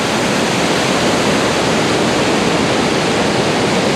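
Bald River Falls near Tellico Plains, Tennessee, roars as a loud, steady, unbroken rush of falling water with no other sounds.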